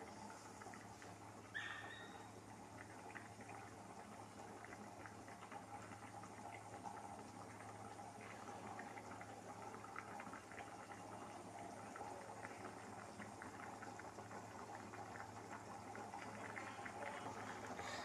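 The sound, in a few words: chickpea masala boiling in pot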